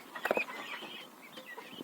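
A broody hen with her young chicks makes soft clucks and thin high peeps, with a couple of sharper calls near the start and then quieter chirping over faint background noise.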